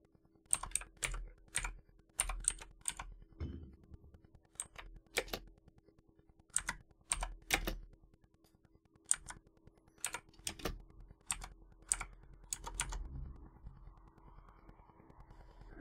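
Steady typing on a computer keyboard, entering a command on a Windows PC, with bursts of close, crisp key clicks separated by short pauses and no talking.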